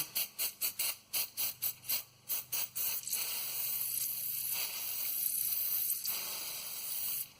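Aerosol spray hisses in a quick series of short puffs, then holds as one long, steady hiss at close range, sprayed onto the axle hub of a 2008 Ford F-150 rear axle.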